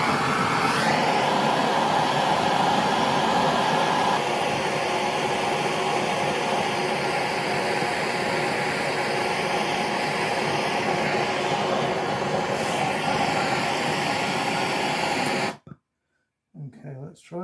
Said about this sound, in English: I'm going to use this blow lamp to do that with